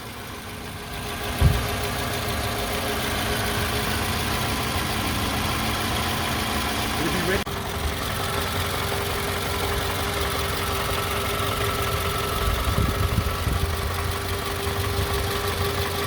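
Steady idle of a 2006 Toyota RAV4 engine before an AMSOIL engine flush, a continuous close low-pitched hum with a faint tick, a brief knock near the start and a slight shift in tone midway.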